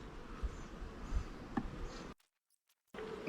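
Honeybees drone and hum steadily and close during a hive inspection, a dense buzzing with a few handling knocks, then a short abrupt drop to silence before the buzzing resumes.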